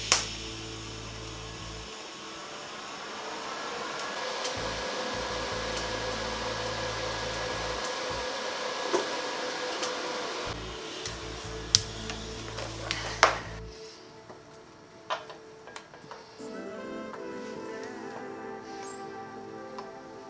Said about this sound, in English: I am using my HTP Invertig 221 TIG welder